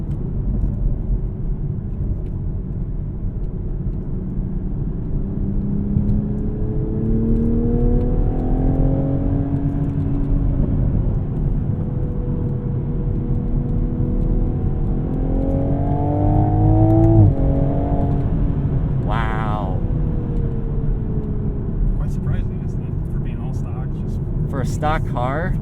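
A Mk5 Toyota Supra with 382 horsepower is floored in manual mode, the engine note climbing in long rising sweeps, easing off, then surging again, with a driver talking over the cabin drone.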